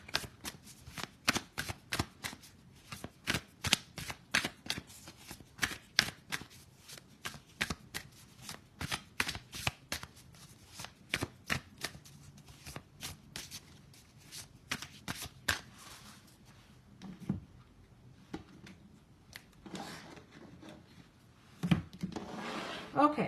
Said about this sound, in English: I'm going to shuffle the other cards